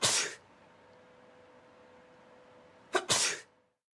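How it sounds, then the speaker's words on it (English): A person sneezes twice in a quiet room during a droplet experiment, close and loud: one sharp burst at the start, then after a long pause a doubled sneeze with a short catch before it. "First, sneezing."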